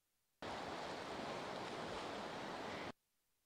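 Sea surf rolls steadily onto a beach in Majorca, a broad even wash of noise that starts and stops abruptly, with no voices over it.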